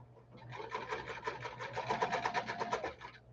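A sewing machine stitches at close range, a rapid even needle chatter over a low motor hum, rising briefly and then stopping.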